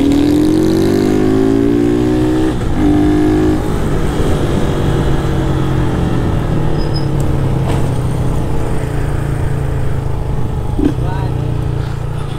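A car engine is revved in pulses against the clutch to make a wavering, tune-like whine that swoops up and down, loud and close, with voices murmuring in the background.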